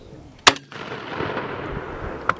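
A SMAW shoulder-launched rocket fires on a Marine Corps range, one sharp loud blast followed by a rumbling outdoor tail and a fainter distant crack near the end.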